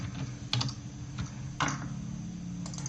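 Computer keyboard typing, coding for an Arduino ultrasonic sensor project: a few soft, scattered key taps and clicks over a faint steady background hum, quiet and close.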